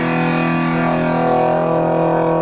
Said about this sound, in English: A distortion pedal, which overloads the signal.